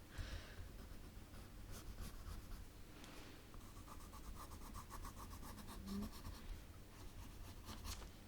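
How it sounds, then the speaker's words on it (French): An eraser rubs out a pencil line on paper during an animal drawing, faint soft scrubbing strokes in short repeated bursts, close and quiet. "Donc ici, on va gommer aussi le trait"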